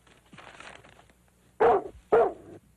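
A dog gives two sharp, close barks in quick succession after a quieter whine, with a brief pause between them.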